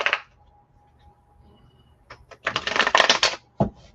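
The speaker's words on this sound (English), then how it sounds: "I'm getting your cards out." Playing cards being shuffled at a table during a reading, a quiet rustle building into a dense, fast riffle of papery flutters with a final snap near the end.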